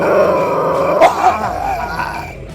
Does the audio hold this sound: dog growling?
yes